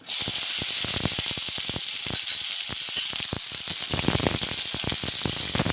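Sliced okra and green chillies hitting hot oil tempered with mustard seeds, setting off a loud, close, continuous sizzle dotted with sharp pops and crackles throughout, with no voices.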